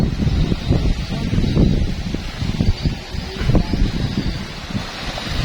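Steady gusting wind roars across the microphone over a broad wash of surf at low tide, with no voices present.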